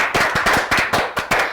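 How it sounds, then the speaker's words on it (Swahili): A studio audience claps in quick, rhythmic bursts at a Kikuyu game show, the hand claps sharp, close and steady with no talk over them. "Aya makofi."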